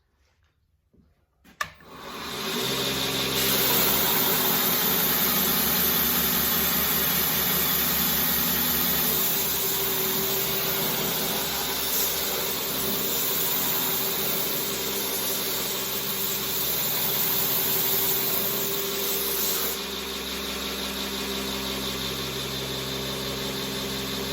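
A grinder shaping knife handles, with a sharp start followed by a loud, steady, high-pitched whir and hiss that runs continuously and close-up with no talking.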